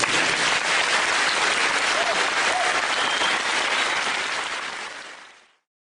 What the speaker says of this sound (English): Please give an applause to Mr. Fresco, a revolutionary of our times,